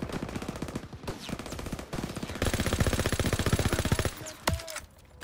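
Gunfire in the World War II video game Call of Duty WWII, with rapid machine-gun bursts rattling in quick rhythmic runs, one long sustained burst in the middle, then a few scattered shots.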